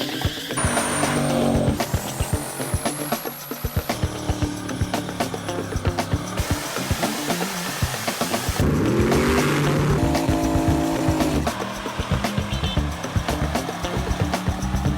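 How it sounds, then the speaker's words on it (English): Cutting and shortening a Duramax truck frame to fit a 1968 C10 long bed body, with harsh metal grinding and cutting, screeching passes and clanks in a loud shop, continuous throughout. "So here's what it looks like when we shorten a frame"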